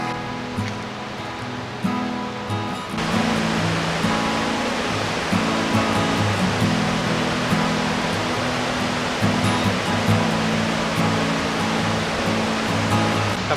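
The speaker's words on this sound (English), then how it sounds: "It's got the waterfalls in full flow." Thornton Force waterfall on the Ingleton waterfall trail roars in full flow after heavy rain. The rushing water is a steady, dense wash that swells louder partway through and continues with no talk over it.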